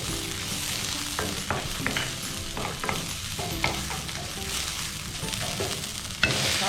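Ginger frying in a pan for a radish paratha filling, with a steady close sizzle broken by repeated scrapes and knocks of a spoon stirring throughout, and a louder clatter near the end.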